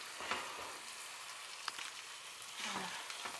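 Truffade, potatoes and melting cheese, sizzling and frying in a pan as it is stirred, a steady close crackle with a few louder scraping stirs and no talk.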